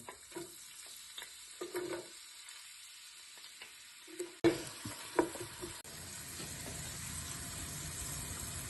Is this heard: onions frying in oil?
yes